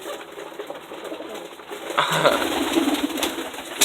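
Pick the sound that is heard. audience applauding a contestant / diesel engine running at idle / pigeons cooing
pigeons cooing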